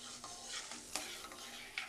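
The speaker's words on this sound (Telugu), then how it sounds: "ఈ ఆవాలు చిటపట అనివ్వాలి" Mustard and cumin seeds crackle and sizzle in hot oil, a steady frying hiss with several sharp pops scattered through the short stretch, close and fairly quiet.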